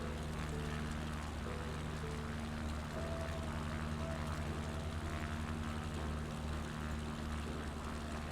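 A propeller aircraft in Microsoft Flight Simulator 2020 flies over the rivers and lakes of Yellowstone Park, its engine a steady, low, humming drone that stays faint and even throughout.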